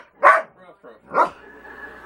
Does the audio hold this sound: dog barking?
yes